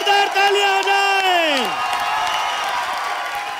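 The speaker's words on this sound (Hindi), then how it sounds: "जोरदार ताली आ जाए।" A studio audience at the Comedy Circus 2018 comedy show whoops and cheers. A loud voice slides downward, then broad applause and crowd noise continue.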